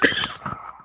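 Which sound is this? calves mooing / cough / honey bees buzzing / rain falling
cough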